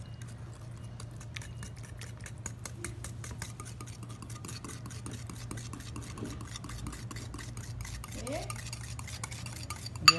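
Mayonnaise and fresh milk being whisked in a bowl: a quick, faint, continuous scraping and tapping rhythm against the bowl, with a steady low hum underneath and a sharp clink at the very end.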